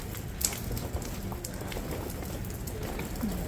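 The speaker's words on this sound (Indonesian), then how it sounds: "hujan ya teman-teman" Rain falls steadily on a surface during a gloomy, sunless day, a soft continuous patter with occasional louder drops, fairly faint and without talking.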